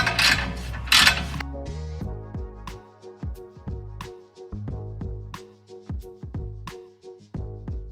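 Ratcheting socket wrench cranking header nuts loose on a BMW E46 M3 in a garage, with a couple of loud bursts of effort first, then repeated short ratchet clicks in uneven strokes close by.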